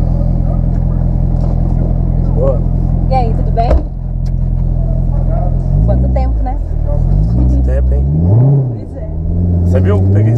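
A car engine idles with a heavy, close rumble, then revs up and down a few times while people chat over it.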